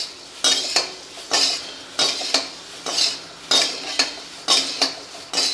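Poha being dry-roasted in a pan and stirred, a regular series of close scraping strokes and clinks from a metal spoon against the pan, about two per second, with no talk.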